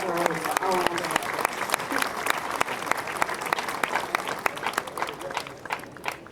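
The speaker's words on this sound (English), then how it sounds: "That deserves a round of applause." A graduating class and their families at a high school graduation ceremony break into applause, sharp individual claps scattered through a broad crowd wash, fairly close, holding steady then thinning slightly toward the end, with some voices mixed in.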